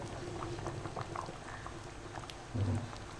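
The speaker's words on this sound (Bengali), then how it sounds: "আমাদের এখানে খুব সুন্দর টকবক করে ফুটছে" Gobindobhog rice khichuri bubbles vigorously in a pot, a continuous close-up boil of popping bubbles with a slightly louder surge toward the end.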